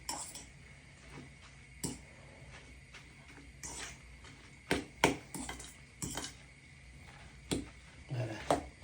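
A utensil stirs white bean soup in a pot, sparse clinks and scrapes against the pot in an irregular rhythm over a quiet background, close and fairly soft.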